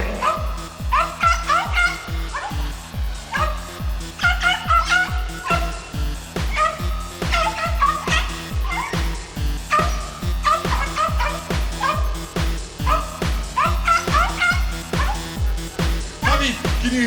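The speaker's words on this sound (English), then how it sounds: "it's starting to sound a lot like a little chihuahua" A small chihuahua-like dog yaps in rapid, steady bursts against a thick musical backing, the yips close and loud for the whole stretch.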